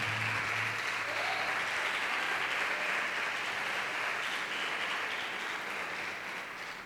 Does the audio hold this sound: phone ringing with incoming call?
no